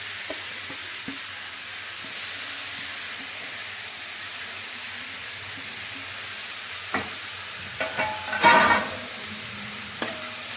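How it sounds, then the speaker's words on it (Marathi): Grated carrot fries in ghee in a pan, giving a soft steady sizzle with scattered clinks and scrapes of stirring, one louder clatter near the end, and no voices. "आता हा गाजर किसलेला आहे तो आपण टाकत आहोत."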